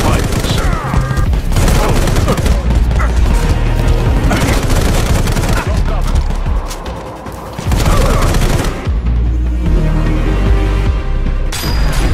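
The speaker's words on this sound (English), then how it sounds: "Zoom in to increase the accuracy with assault rifles." Assault rifle gunfire in a mobile shooter game, loud dense bursts of rapid shots with booming impacts running almost continuously, dipping briefly before resuming.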